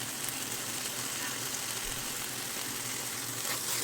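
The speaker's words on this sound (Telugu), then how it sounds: "ఉప్పు, కారం, గరం మసాలా వేసుకొని 1 నిమిషం ఫ్రై చేసుకున్న తర్వాత అల్లం వెల్లుల్లి పేస్ట్ని కూడా వేసుకొని ఫ్రై చేసుకున్నాను" Ginger garlic paste fries with salt, chili powder and garam masala in a pan for fish curry, giving a continuous loud, dense sizzle that stays steady throughout.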